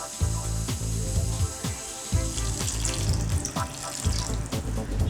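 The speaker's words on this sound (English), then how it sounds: "we're going to add 2 more mugs of water" Water pours and splashes steadily into a cooking pot of Bengali vegetable khichdi, with a continuous rushing sound punctuated by a few knocks and clinks, close by.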